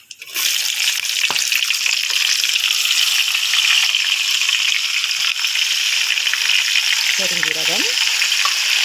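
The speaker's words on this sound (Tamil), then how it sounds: "ஊடான் பொரிச்ச எண்ணெயிலே தான் பட்டை, பூவு, ஏலக்காய் இதெல்லாம் போட போகிறேன்." Cinnamon, cloves and cardamom dropped into hot oil for a prawn varuval gravy give a loud, steady, close hiss of frying that holds unbroken throughout, with a brief voice near the end.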